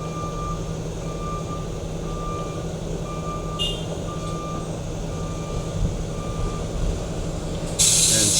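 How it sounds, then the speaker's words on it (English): A truck's reversing alarm beeps in a regular, evenly spaced rhythm over a steady diesel engine rumble at a lake refill site, with a brief hiss near the end. "We've got the other truck waiting."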